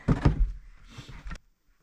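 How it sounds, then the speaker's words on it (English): A drawer pulled out of a cabinet while a furnace is being worked on during freezing weather, giving a sliding rumble and a couple of close wooden thunks and knocks, then quiet. "I'm gonna take this drawer out."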